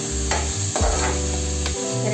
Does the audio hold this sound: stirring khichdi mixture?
yes